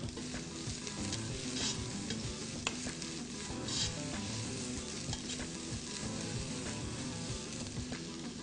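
Onion fries in a pot with garlic and ginger, giving a dense, continuous sizzle with scraping and stirring sounds, close and steady throughout, with no talking.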